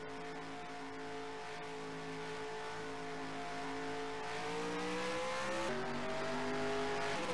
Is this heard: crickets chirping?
no